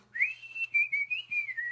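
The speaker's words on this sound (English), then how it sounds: "I whistle for a cab" A person whistles a single tune, a clear close whistle rising quickly then wavering up and down in short connected phrases, alone without talk.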